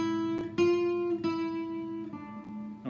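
A guitar picks out a slow melody in single notes that begins over a third chord, including an altered chord with a sharpened fifth, each note ringing and decaying before the next, clear and alone without any talk.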